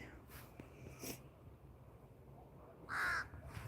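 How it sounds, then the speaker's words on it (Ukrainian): Several crows caw outdoors, with a few harsh calls at mid distance and one loud, close caw near the end over a steady background rumble. "Бачите, скільки ворон? Ворон багато."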